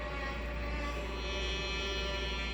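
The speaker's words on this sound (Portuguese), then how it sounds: "Agora estou usando o ar-condicionado." A household air conditioner runs with a steady, unbroken drone and a low electrical hum, constant and moderately close, with no talking.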